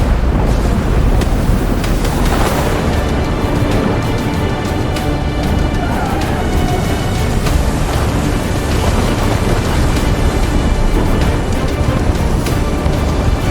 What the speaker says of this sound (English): A storm from heaven sent.